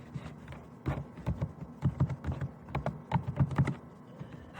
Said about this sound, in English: if I come over here to page 2 and I type out something